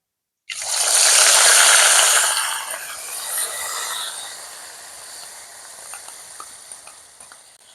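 Onion paste hits hot ghee and oil with a loud, bright sizzle that bursts in all at once, then settles into a steadier, softer frying hiss with small crackles.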